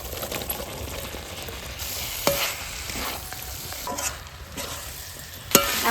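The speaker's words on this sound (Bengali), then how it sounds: "এখন ওই সবজিগুলো দিয়ে দিচ্ছি।" Mixed vegetables hit hot oil in a pan for a home-style vegetarian dish, sizzling steadily while a utensil stirs and scrapes with several sharp, close clatters over about six seconds; no one speaks.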